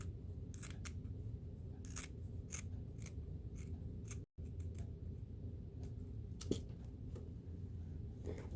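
Scissors cut craft fur for a Dollar Tree Christmas gnome beard, giving a series of crisp, close snips at an uneven pace over a quiet room hum, without talk.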